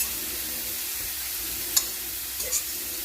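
Green peppers and mushrooms sizzling steadily in a hot pan, a continuous bright hiss of frying with a couple of small pops and stirring clicks near the end.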